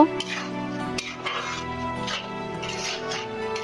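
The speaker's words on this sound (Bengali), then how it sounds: "আমি এখন এটাকে নেড়ে মশলার ভিতরে মিশিয়ে দেব।" Washed mung dal being stirred into spices in a cooking pot, with a spoon scraping and clinking against the metal in a few distinct strokes over a steady background hum, close and moderately loud.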